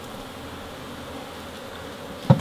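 Honey bees buzz steadily at a hive entrance, a continuous close insect drone throughout with a brief louder knock near the end.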